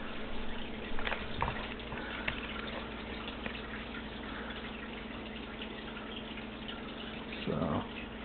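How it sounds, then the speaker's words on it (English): Dirty wash water drains out of a Miracle Wash manual washer in a steady, low, trickling rush that runs throughout with a couple of brief splashy swells, fairly faint and without any talking. "you press in and twist, and it drains the dirty water out"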